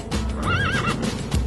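A horse whinnies in a single rising-and-falling call over a steady clatter of hooves, a staged sound effect in a storytelling performance, close and loud with no voices.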